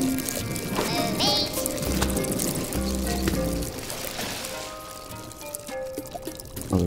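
Water pouring and sloshing in the video game Worms Revolution, a steady liquid wash running through the whole stretch alongside tonal game sounds.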